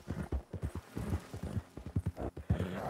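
Horse hooves clip-clop at a steady trot in Red Dead Redemption 2. The hoofbeats are close and rhythmic and carry on without a break, with faint game ambience underneath.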